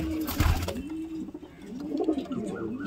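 Pigeons coo softly nearby in a loft in repeated low, throaty rolls, with faint rustling in the background.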